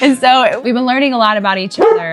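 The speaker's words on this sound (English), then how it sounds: "There was a dog barking up on the streets and they wanted to join." Several dogs bark and yip loudly and close up in rapid, overlapping bursts, excited by another dog barking up on the street, while a person talks over the noise.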